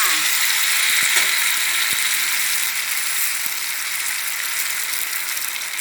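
Dried mussels coated in flour batter fry in hot oil in a pan with a dense, steady sizzle that stays loud and close throughout, with a few faint knocks underneath.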